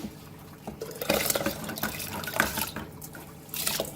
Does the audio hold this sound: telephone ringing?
no